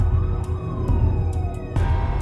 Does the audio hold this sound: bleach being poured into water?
no